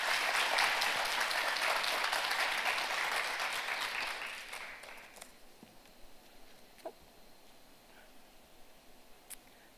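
Loud audience applause welcomes a speaker at the 2018 Jeonbuk International Finance Conference, filling a hall for about five seconds before fading into quiet room tone with a few faint stray sounds.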